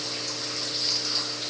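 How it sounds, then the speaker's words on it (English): A filter pump runs in a 220-gallon aquarium, giving a steady watery rush with a constant low motor hum, close and unbroken. "Filter running, trying to get some of that sand and debris out of there"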